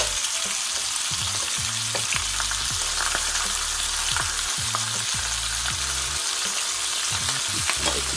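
Spareribs sear in a wide skillet, a loud steady sizzle of hot fat running the whole time, with occasional low knocks and scrapes as the meat is moved about.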